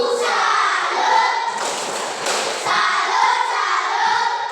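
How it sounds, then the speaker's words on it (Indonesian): Group of children doing a 'tepuk salut' salute clap in a classroom, a rhythmic run of hand claps with thumps, loud and close, lasting throughout with no talk over it. "Baik, tepuk salut untuk Fanya."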